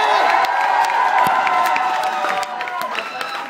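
Crowd applause mixed with cheers and whoops at a comedy show in Strasbourg, loud and lively, with a whistle-like tone and voices shouting over the clapping before it eases slightly near the end.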